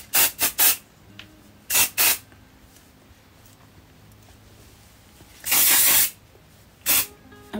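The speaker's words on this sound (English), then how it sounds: "I'm going to add some texture with some texture spray" Several short bursts of Authentic Beauty Concept texture spray misted onto short wavy hair, loud and close, with quiet gaps between them and one longer spray near the end.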